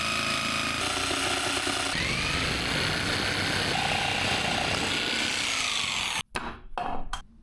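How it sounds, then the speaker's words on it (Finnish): A jigsaw cuts a circle out of a board for a car bass speaker, a loud continuous buzzing saw drone that holds steady for several seconds, then stops abruptly with a few short knocks and bursts at the end. "Nyt meillä on täydellinen ympyrä täydellisesti keskellä. Niin ei muuta kuin nyt leikkaa kuviosahalla tuosta."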